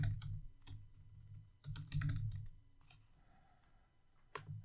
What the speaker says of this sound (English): My apologies for the typing.